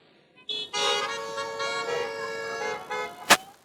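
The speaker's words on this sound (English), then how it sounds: "I want you to honk your horn if you hear me" A sustained, bright tonal sound with stacked harmonics lasting a few seconds, car horns held down at a drive-in graduation event, ending with a sharp click.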